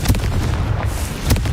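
A Confringo fire spell from Hogwarts Legacy bursts with a loud, dense boom, flanked by sharp impact cracks near the start and end over a continuous rumbling blast.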